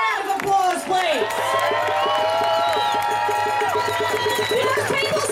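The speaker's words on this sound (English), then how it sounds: "Can we give them a round of applause, please?" At a street demonstration, a crowd applauds and cheers close by, with steady clapping, whoops and shouts that keep going without a break.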